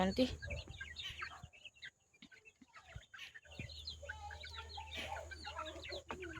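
Chicken chicks cluck and cheep faintly in a farm setting, with scattered small calls throughout, mixed with low background noise and some voices.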